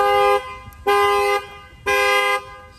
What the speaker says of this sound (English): Any window that they break, it will fire off the alarm system.